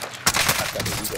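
Rapid gunfire from Warzone on Rebirth Island, a sudden dense burst that fills the whole short moment, loud and close.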